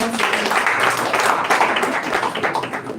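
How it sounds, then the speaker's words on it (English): An audience at a university pharmacy students' association contest event applauds a contestant, a dense, steady wash of many hands clapping at moderate loudness for a few seconds, with no speech. "A round of applause for you"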